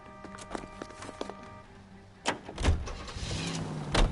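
A car in the video game L.A. Noire, heard first as faint clicks and a steady low tone, then doors thudding and an engine starting up and rumbling closer and louder.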